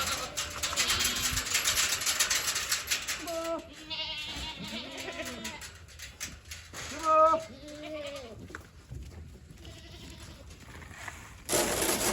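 Goats, including young kids, bleating in a pen during sorting for sale, several short wavering calls at moderate distance over steady outdoor noise and rustling.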